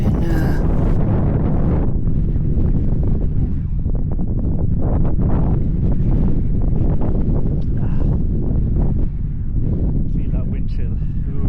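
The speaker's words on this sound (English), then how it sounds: "Feel that wind chill." Strong wind blowing outdoors, buffeting the microphone in a loud, continuous low roar with gusty swells from start to finish, while people talk faintly underneath.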